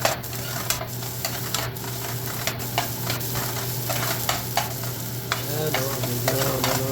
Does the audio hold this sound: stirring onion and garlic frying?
yes